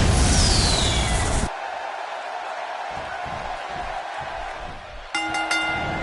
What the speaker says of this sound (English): The capacity crowd on its feet as we're about to get this one underway.